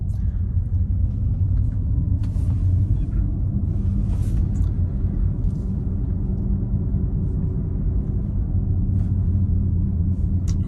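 A Tesla Model Y driving after pulling away, giving a steady low cabin rumble of road and tyre noise, continuous and fairly loud, with a few faint knocks and murmurs above it.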